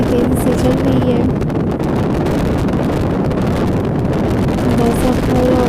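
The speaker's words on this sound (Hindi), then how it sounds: "हवा काफ़ी तेज़ी से चल रही है।" Strong wind blows steadily across the open plain at Muzdalifah, a loud continuous rush and buffeting against the microphone with no letup, a voice faintly present beneath it.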